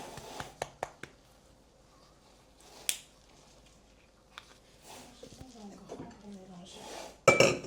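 Salad bowls swapped in a kitchen while cheese for mac and cheese is mixed, with sharp clinks and knocks of bowls and utensils, scraping stirring, and a loud clatter at the end, while people talk.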